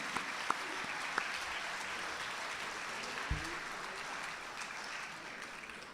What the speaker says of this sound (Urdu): آپ تمام کی گونجدار تالیوں میں ان کا استقبال کرتا ہوں